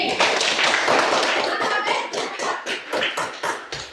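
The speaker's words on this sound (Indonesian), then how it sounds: "Tepuk tangan dulu untuk B." A classroom of children claps for a classmate, a burst of many small hands that starts dense and loud, then thins into looser, scattered claps toward the end.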